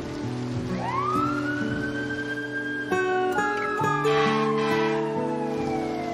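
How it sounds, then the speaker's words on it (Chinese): A fire truck siren wails, rising and falling in long sweeping tones at moderate distance, with steady background hum and other tonal sounds layered beneath it. "消防车"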